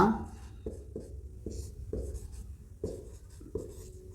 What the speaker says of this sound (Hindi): पहले सूत्र आपके सामने लिखते हैं